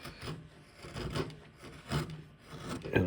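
Flat chisel and curved gouge paring wood on a carved ball and claw foot for an 18th-century Newport card table, a series of close scraping and rasping strokes in an uneven rhythm with no talk.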